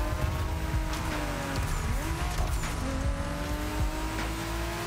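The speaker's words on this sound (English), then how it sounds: "This car keeps slipping and sliding" Car tires squeal and skid as a car slides around a track in The Crew Motorfest racing game, with a steady engine roar underneath. The screeching is loud, continuous and close throughout, with no talking.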